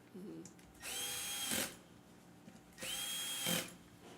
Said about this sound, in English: The drill sounds like SpongeBob screaming.